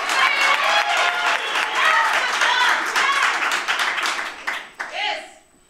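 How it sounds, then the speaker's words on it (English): A graduation ceremony audience claps and cheers loudly for a cum laude diploma graduate, dense sustained applause that thins and fades in the final seconds. "I would like you to shout and cheer for Mayuri"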